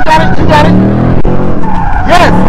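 A Ford Mustang drifts under throttle, its loud engine revving and rising over continuous tire skidding close by, with people talking over the noise.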